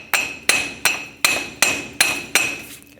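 A hammer taps a front wheel hub out of a 2008-2010 Ford F-450 Super Duty in seven sharp metallic strikes, close and evenly spaced, each ringing briefly before the next.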